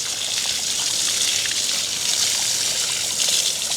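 Water runs steadily over moringa leaves being washed outdoors in a village, a continuous close gushing and trickling stream with no talking.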